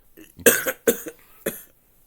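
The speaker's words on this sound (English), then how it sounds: "It was the greatest cough that the podcast industry ever heard." Three sharp, harsh coughs close to the mic, the first two quick together, a brief pause, then a final one before quiet.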